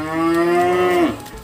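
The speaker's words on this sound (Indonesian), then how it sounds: "Ada sapi, kambing." A cow on a rural village livestock farm in Trenggalek, Java, gives one long, loud, sustained moo lasting about a second before trailing off, close by with no talk.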